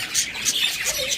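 A pair of lutino red-eye pet birds chirps in quick, bright, repeated tweets, close and fairly loud over a short moment.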